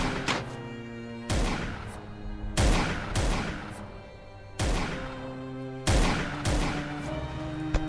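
Sniper rifles fire in Command of War, a World War 1 real-time strategy game: about six sharp, booming shots at steady intervals of roughly a second, each trailing off into a short decay.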